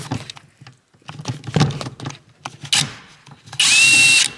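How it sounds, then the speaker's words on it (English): A power tool works on the seat bolts of a 2003-2006 Saab 9-3 in several short, close bursts with pauses between them. The clip ends with a louder, sustained high whine. "we're gonna remove these 2 bolts, one over here and one on the other side"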